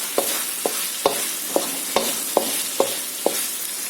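The white part of spring onion frying in a wok, a continuous hiss of hot oil broken by regular, evenly spaced tosses or scrapes of the spatula about twice a second, close and clear with no talking.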